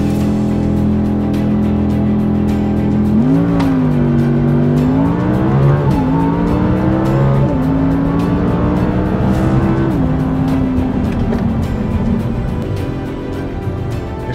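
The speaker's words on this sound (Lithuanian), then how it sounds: "Išvažiavom į trasą su RS4, čia dabar daug yra įdomiau, nes važiuojam normaliai trasoje" An Audi RS4 at speed on a race track, its engine note droning steadily and rising and falling through several gear changes, loud and close for the whole stretch with no talk.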